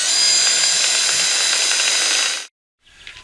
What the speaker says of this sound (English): we'll put a Tek screw through the pre-drilled hole to hold it in place